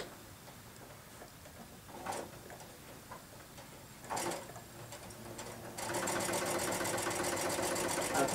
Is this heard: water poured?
no